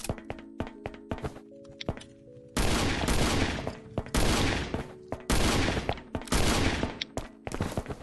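Gunfire in the survival video game Last Island of Survival, with sharp close shots, then several bursts of rapid automatic fire separated by short pauses, plus scattered single reports.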